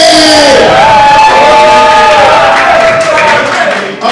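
An audience at an improv student showcase cheers and whoops loudly, with sustained yelling voices over a bed of clapping, close and intense before easing at the end.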